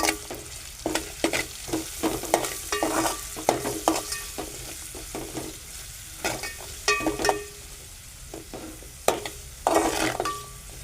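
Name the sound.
sautéing onions in a pan for soybean sabji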